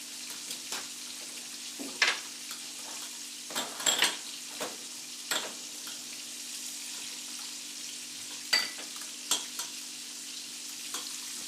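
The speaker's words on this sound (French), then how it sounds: "On va déglacer avec un demi-citron." Gambas sizzle steadily in a hot pan after browning, a continuous close frying hiss broken by several sharp clinks and stirring scrapes of utensils against the pan, with no voices.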